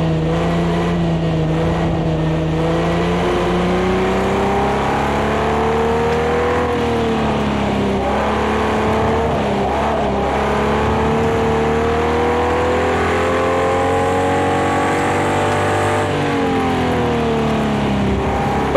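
A Jaguar E-Type in Project CARS 2 revs loud and steady in second gear, its engine note rising and falling continuously with no one talking over it.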